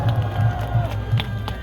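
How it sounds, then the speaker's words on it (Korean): Short burst of cheering and clapping from a large outdoor rally crowd applauding pastor Jeon Kwang-hoon, over a steady low hum, loud and dense throughout. "큰 박수 한번 해주시기 바랍니다"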